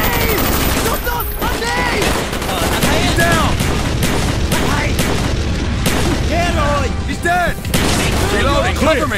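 Grenade blast and heavy gunfire in Call of Duty: Black Ops, a dense, loud, continuous barrage of shots and booms with shouted voices mixed in.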